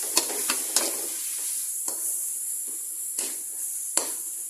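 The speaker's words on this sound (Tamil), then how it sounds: "பூண்டு பேஸ்ட்டு போட்டுக்குவோம். பூண்டு போட்டுட்டு நல்லா வதக்கிக்கலாம்." Onion and garlic paste sautéing in a pan, with a continuous close sizzle and several scattered scraping clicks from stirring.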